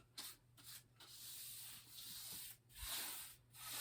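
Brush dragged back and forth across canvas while blending acrylic paint, soft close scratchy strokes in a steady left-right rhythm with brief gaps between passes, no voices.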